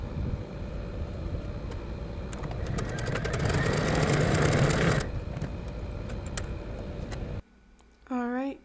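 A sewing machine runs a zigzag stitch on knit fabric, giving a steady mechanical whir that swells in the middle and then cuts off. A brief voice follows at the end.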